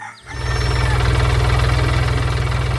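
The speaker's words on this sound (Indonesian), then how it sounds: "Lihatlah itu, traktor hijau bermain di tengah sawah hijau, menggembur tanah dengan roda kuning yang ceria." A green tractor with yellow wheels works a green rice field, its engine starting up within a moment, then chugging steadily and loudly close by in an even rhythm.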